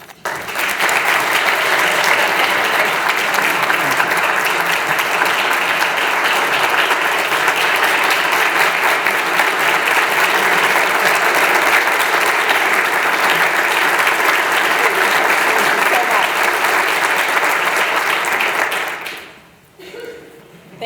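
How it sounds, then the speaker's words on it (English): Sustained audience applause at the 2019 James E. Armstrong Award ceremony, a dense, steady wash of many hands clapping close by for about nineteen seconds before fading out quickly. "Thanks so much for that kind applause"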